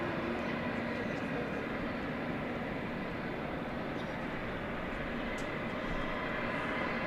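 A super jumbo jet departing Dallas Fort Worth Airport at night for Houston, a continuous deep engine roar of steady loudness filling the background throughout, with a faint radio voice audible.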